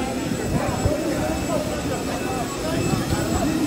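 Airplane engines at an airport during a deportation dispute: a steady, loud roar and whine fills the whole clip while people talk over it.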